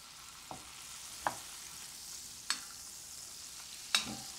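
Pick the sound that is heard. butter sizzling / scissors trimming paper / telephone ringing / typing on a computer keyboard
butter sizzling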